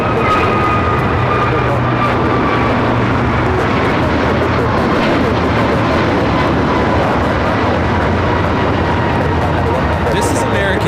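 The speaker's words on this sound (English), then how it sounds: "This is American Airlines 591 taking off to Washington Reagan National on the A321neo" Loud, sustained roar of an American Airlines A321neo jet taking off at LAX, a broad rumbling engine wash that holds steady throughout, with faint voices underneath.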